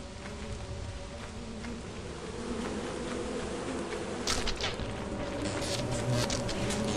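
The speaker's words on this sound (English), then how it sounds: "Even better if I get these bees" Bees from beehives in the game Lethal Company buzz in a steady, continuous drone that holds level throughout, with brief brighter rustles partway in and no talk.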